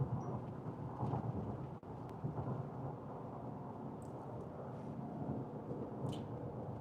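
A thunderstorm rolls across the Colorado plains near Haxton as a distant, faint, continuous rumble with a soft rain hiss and no voices.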